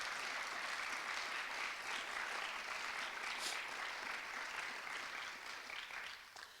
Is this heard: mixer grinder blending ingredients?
no